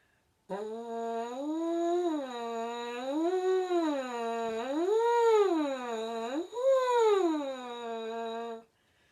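A French horn mouthpiece is buzzed alone in slow sirens, the pitch sliding up and back down several times in one continuous, moderately loud tone.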